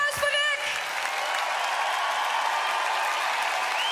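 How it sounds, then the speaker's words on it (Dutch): A crowd at a concert applauds as a 12-year-old guitarist is brought onstage. A voice speaks briefly at the start, then steady, wide applause continues alone. "Applaus voor Rick."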